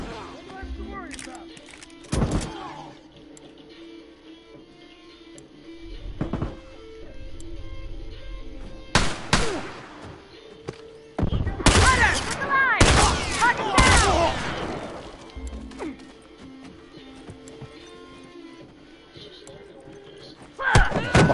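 Gunfire and a grenade blast in The Last of Us multiplayer: scattered shots early on, then a loud cluster of bursts and an explosion mid-clip, with a final shot at the end, under sparse talk.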